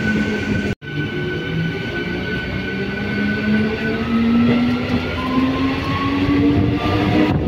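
Ranchi–Howrah express train number 20898 rushes past at speed near Bishnupur, a loud, close, continuous rumble of wheels on rail with long, steady metallic squealing tones running through it and a brief drop near the start.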